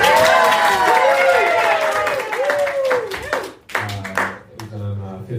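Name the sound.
audience applause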